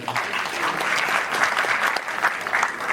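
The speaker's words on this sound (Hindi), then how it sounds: "तो मैं ये चाहूँगा एक बार सारे लोग अपने लिए तालियां बजा लें।" A crowd at a traditional Nautanki folk theatre performance applauds, a dense, steady clapping that holds for the whole stretch.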